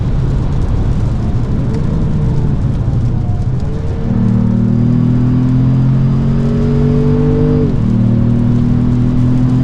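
2025 Ford Maverick Lobo four-cylinder engine on track at Road America, loud steady induction drone heard from inside the cabin, pitch climbing under acceleration with a shift near the end.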